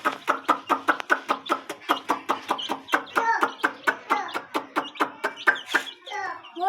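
Baby ducks and chicks on a farm peep in a fast, regular run of loud, close calls, with a few squeakier overlapping cheeps near the end.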